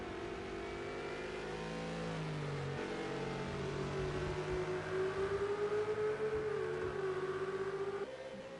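Ferrari race car engines in Project CARS 2 at the Dubai circuit, a steady loud mid-pitched roar with rising revs and slight pitch shifts, two cars running side by side along a straight with no talk over it.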